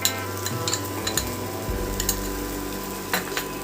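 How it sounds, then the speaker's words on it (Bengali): A spoon stirs green pea paste frying in a pan with ginger and green chilli paste: scraping strokes over a soft, continuous sizzle, close and fairly loud, with no talking. "মটরশুঁটিটাকে দিয়ে ভালো করে নেড়ে দেব"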